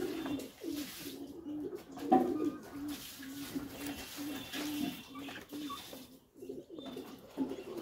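Pigeons coo in a loft of Pakistani breeding birds, soft low rolling coos repeating steadily in a rhythmic throaty pattern, close but quiet, with faint rustling and no clear speech.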